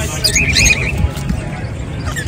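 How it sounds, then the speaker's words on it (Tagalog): A parrot squawks in shrill, wavering calls at a poultry area, close and fairly loud over a noisy background. "Parrot."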